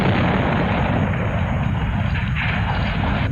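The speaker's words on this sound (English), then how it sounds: "I could set it off where you could still see him in close proximity to the explosion" A huge pipeline explosion set off as a film stunt, a continuous roaring blast of fire, loud and steady throughout with no voices.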